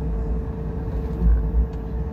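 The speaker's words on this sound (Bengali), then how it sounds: "আমাদের ট্রেনের বিপরীতে একটি মালগাড়ি যাচ্ছে," A goods train passing in the opposite direction heard from inside the Azad Hind Express near Jharsuguda, a steady low rumble with rolling wheel thumps throughout.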